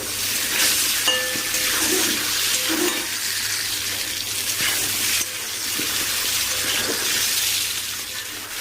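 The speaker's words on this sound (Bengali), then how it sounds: "পটল আলুর তরকারির জন্য আলুটা ভাজা দিয়েছি" Potatoes fry in a pan for a potol aloo curry, with a continuous close sizzle and occasional stirring scrapes.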